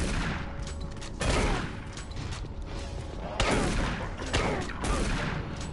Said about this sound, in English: it was really not worth me trying to shoot that barrel, because I didn't hit it once